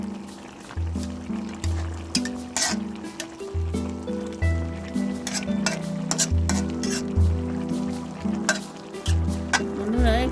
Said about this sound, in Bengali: ভালো করে একটু নেড়ে চেড়ে মিশিয়ে নিচ্ছি